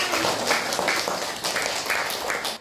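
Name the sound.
classroom applause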